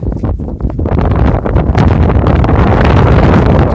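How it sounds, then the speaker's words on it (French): Loud, continuous wind buffeting the microphone outdoors at La Chaume du Champi, a low rumbling roar that gusts and stays strong throughout. "Je suis désolé pour le vent."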